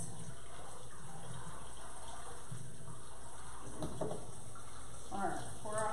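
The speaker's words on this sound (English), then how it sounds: "I'll rinse these cans to recycle them." Empty cans are rinsed under a running kitchen tap, giving a steady stream of water with splashes and clatter near the end, while a person talks at times.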